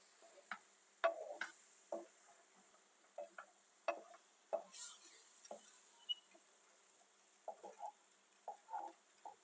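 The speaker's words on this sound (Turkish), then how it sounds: "Topaklanmaması için karıştırmaya başlıyorum." A whisk or spoon stirs flour and milk in a pot to keep it from lumping, giving irregular scraping taps and clicks against the pot, with a faint hiss beneath.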